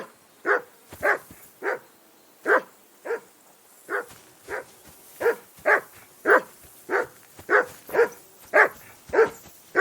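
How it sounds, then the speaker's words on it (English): A dog barks repeatedly in a medieval riverside camp scene in the video game Kingdom Come: Deliverance II, sharp close barks spaced about half a second apart over ten seconds. "Call off that damn dog before he wolfs down the last of our meat."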